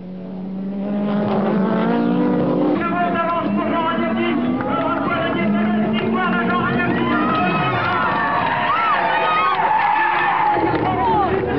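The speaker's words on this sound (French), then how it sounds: "Jean Ragnotti se retrouve donc au volant d'une Renault 21 Turbo 4x4 et sur circuit" A Renault 21 Turbo 4x4 race car laps a circuit, its engine loud and close as it revs up and down through gear changes, with crowd noise in the background.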